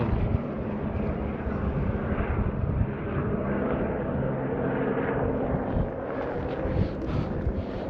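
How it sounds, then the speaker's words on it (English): A supply-delivery helicopter's steady roar fills the air overhead near Namche Bazaar on the Everest Base Camp trek, a continuous loud engine and rotor rumble with some wind noise. "Another helicopter delivering supplies."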